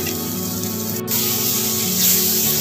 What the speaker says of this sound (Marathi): आता याच्यामध्ये मी बारीक केलेला कांदा घालून घेणार आहे।